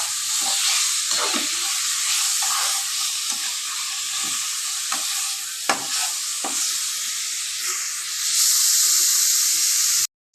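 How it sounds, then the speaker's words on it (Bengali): Spiced mutton fat frying in a pan gives a loud, continuous sizzle and hiss, with occasional scrapes from stirring and a brief swell of steam near the end, no talking. "ততক্ষণ আমি ভালো করে কষিয়ে নিই আজকে বেশ মাখা মাখা করে দেখো ভেজে মানে কষিয়ে নিয়েছি মশলাটা দিয়ে"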